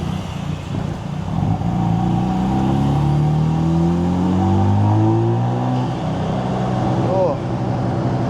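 A turbocharged Mazda RX-7 engine revs hard on a real road and climbs steadily in pitch through a gear, loud and close, with a brief wastegate whoosh near the end.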